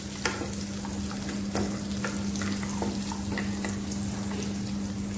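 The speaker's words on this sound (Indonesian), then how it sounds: "Nah ini tumis sampai wangi dan matang." Garlic, shallots, ginger and other aromatics stir-fry in oil with a constant close sizzle, punctuated by irregular spatula knocks and scrapes against the pan, with a steady low hum underneath.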